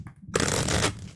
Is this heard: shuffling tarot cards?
yes